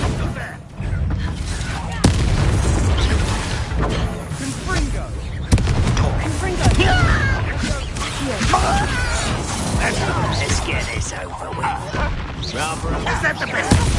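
Explosive spell blasts in a Harry Potter video game, a series of loud booming cracks and crashing bursts close by, mixed with game music and spoken voices throughout.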